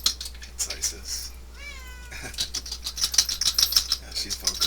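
A pet cat meows clearly near the microphone with a rising, wavering cry around the middle, while someone talks around it in an indoor room.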